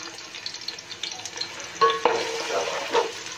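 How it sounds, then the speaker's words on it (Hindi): Onions frying in about two large spoonfuls of oil in a pot for chicken matar pulao, a soft crackling sizzle with scattered stirring clinks and a brighter burst partway through. "हमने पहले प्याज डाल दिए हैं।"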